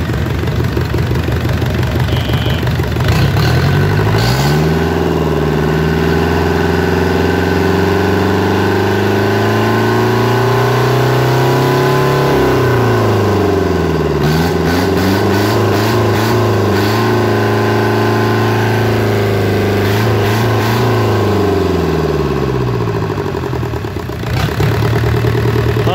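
A Yanmar 4JH 40 hp marine diesel engine runs on a test, loud and close, idling steadily with several rises and falls in revs that shift its droning tone.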